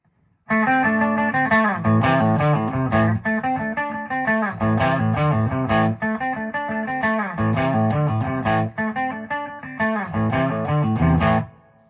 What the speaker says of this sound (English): I'm going to play a riff on a clean guitar without any effects on it